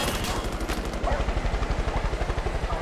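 Rapid automatic gunfire in Far Cry 5, a steady burst of closely spaced shots rattling loud and near, with a helicopter-like drone underneath.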